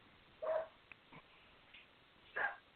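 A dog barks twice, a short burst early and another near the end, fairly distant and faint, with small thumps and murmurs in between.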